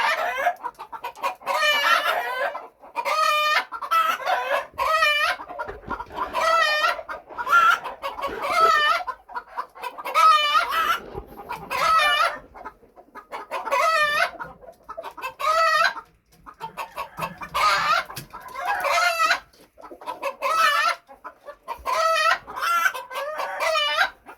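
Golden duckwing Phoenix chickens on a farm cluck and crow again and again in a dense, close, loud run of bird calls with no talking.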